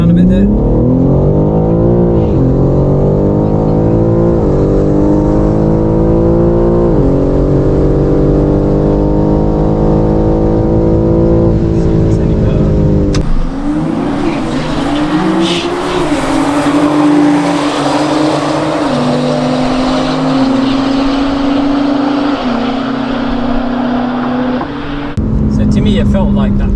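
Stock BMW G80 M3 Competition launching down a quarter-mile drag strip, engine loud and close, revving up through rising gears with shifts and a slight bog, while a voice talks over it.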